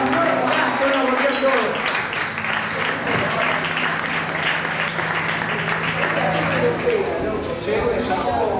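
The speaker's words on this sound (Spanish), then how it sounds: "¡Un aplauso para el Tano!" A live concert crowd claps and cheers for a performer, a dense, loud wash of applause and crowd noise filling the room, with a voice faintly underneath.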